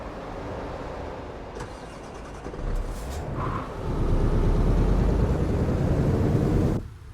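A Scania truck in Euro Truck Simulator 2 drives with a steady engine drone that swells louder midway, holds, then cuts off abruptly near the end.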